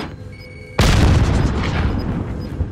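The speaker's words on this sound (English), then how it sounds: "I'm throwing the frag" A frag grenade detonates in Call of Duty with a single sudden, loud boom that rolls into a long, rumbling decay, heard alone without voices.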